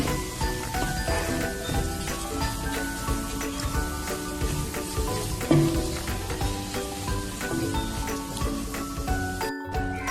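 Masala powders for a restaurant-style chicken curry fry on a low flame in a steady close sizzle, while a spoon stirs and scrapes the pan with occasional light metallic clinks.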